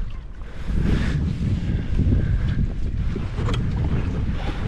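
Strong wind buffets the microphone on a fishing boat, producing a loud, continuous rumbling roar with gusts and faint water sounds beneath.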